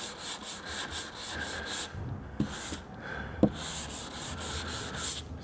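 A sanding block rasps across primer on a car body in steady rhythmic back-and-forth strokes, close and fairly loud, with a short pause and a couple of knocks midway before the strokes resume.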